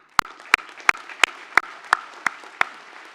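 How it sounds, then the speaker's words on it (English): Slow, evenly spaced hand claps, about eight sharp and distinct strikes close by with quiet between them, at a university commencement ceremony for a graduating class. "I invite you to join me in a round of applause for our UB SIM class of"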